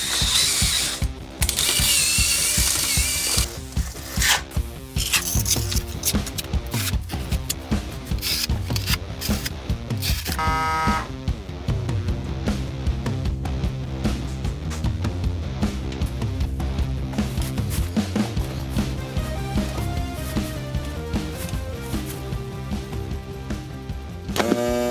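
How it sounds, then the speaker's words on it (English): A small, compact electric suction cup for lifting large porcelain tiles and glass panels runs as it is attached to tile, giving a close, continuous ratcheting, gear-like mechanical whir that shifts in pitch partway through. "this small, compact electric suction cup makes it so easy to install large pieces of material"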